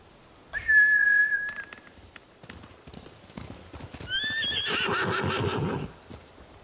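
Horses neigh and whinny in Ghost of Tsushima, a shrill whinny up front and a second burst of neighing later, with hooves clip-clopping between and no talk.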